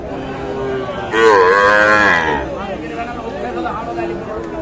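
A Sahiwal bull calf lets out one loud, drawn-out moo at a livestock market, rising over steady crowd chatter and voices that continue after it fades.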